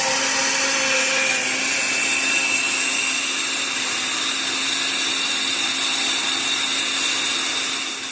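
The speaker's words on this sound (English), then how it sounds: "blend that sauce up, all the vegetables and everything" Blender whirring steadily as it purées a sauce of vegetables, mushrooms and onions, a loud close motor whine with a constant pitch that runs for several seconds before cutting off at the end.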